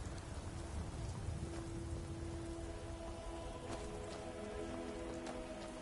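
Steady rain patters in the video game Skyrim as a continuous, quiet hiss of drops on surfaces throughout, with faint tonal music underneath and no talk.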